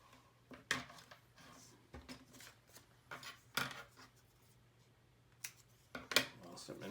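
Scissors snip paper for a paper sculpture, making a few faint, crisp cuts spaced apart over quiet handling rustle.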